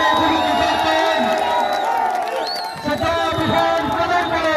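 Large crowd cheering and whooping at a political speech in Roshanabad for an advocate, a loud continuous roar of voices with shouts rising over it throughout.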